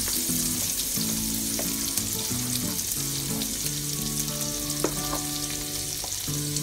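Garlic, onion and ginger in butter for chicken biryani sizzle steadily and loudly in a pan, with occasional stirring scrapes and clinks throughout.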